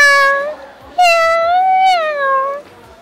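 A person imitates a cat with two drawn-out, tonal meows close by, the second longer and slightly wavering, with nothing else heard.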